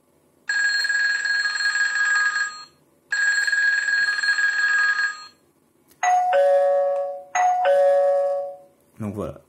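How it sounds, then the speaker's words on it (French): A classic doorbell ringtone played on a Xiaomi gateway, first two long sustained electronic rings, then a two-tone ding-dong chime heard twice, clear and close in a quiet room. "vous pouvez choisir quelle sonnerie vous voulez. Donc moi elle est mise sur cette sonnette classique"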